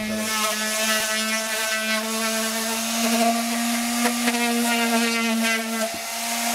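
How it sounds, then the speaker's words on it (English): A motorcycle part being power sanded ahead of priming, the tool whining steadily and loudly at close range with sustained tonal harmonics and slight shifts in pitch as the tool moves across the surface. "I want to get this all sanded out"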